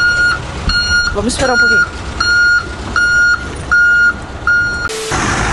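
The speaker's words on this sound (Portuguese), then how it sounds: "Tem uma caminhonete dando uma ré aqui." A pickup truck reverses in a fuel station car park in Calama, its reversing alarm giving loud, evenly spaced beeps under an idling engine, while a person speaks briefly and a sharp hiss cuts in at the end.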